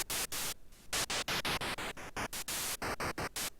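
Noise generator of the VOPM FM synthesizer plugin, bursts of harsh static-like hiss chopped into rapid uneven pulses with shifting tone, fairly quiet and with no voice.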